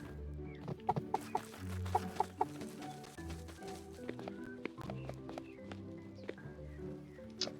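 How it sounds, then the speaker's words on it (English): Chickens clucking in the farming game Staxel, a steady chorus of short clucks and sharper calls at fairly close range, with no talk over them. "people kept giving me all these chickens as gifts."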